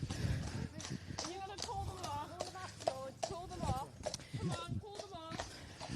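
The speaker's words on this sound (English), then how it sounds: "Horse coming." A horse approaches during a hunt-monitoring outing in the countryside, its hooves clopping in an uneven rhythm beneath people talking nearby.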